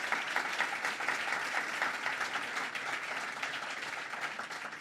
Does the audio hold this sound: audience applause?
yes